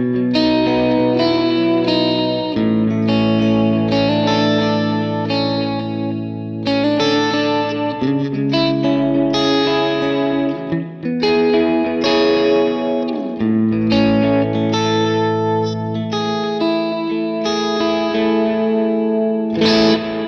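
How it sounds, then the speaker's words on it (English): A clean electric guitar through a Line 6 Helix LT, with compression, a Memory Man style eighth-note delay and hall reverb, plays sustained chords and ringing notes that echo continuously and loudly throughout, with no voices. "Now that's just compressor. That's a Memory Man style eighth delay, eighth note delay, and some hall verb."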